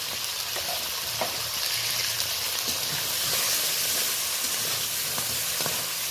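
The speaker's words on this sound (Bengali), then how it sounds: "এবার লবণ হলুদ দিয়ে ভালো করে একটু লাল লাল করে নেব, লাল লাল করে ভেজে নেব" Crab frying in hot oil with salt and turmeric in a home kitchen, a steady close sizzle and crackle with occasional sharper pops and stirring scrapes, no voices.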